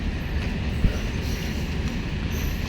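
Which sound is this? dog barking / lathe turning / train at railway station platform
train at railway station platform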